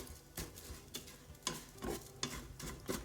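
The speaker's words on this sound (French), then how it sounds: "On va bien mélanger le riz." Rice browning in a Cookeo multicooker is stirred with a utensil, about six scraping strokes at a steady rhythm over a soft sizzle, close and quiet with no talking.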